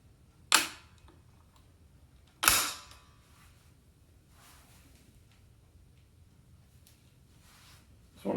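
A Marlin 795 rifle fires a few single shots, each a sharp, loud crack standing alone against quiet background, spaced a couple of seconds apart with a longer gap before the last.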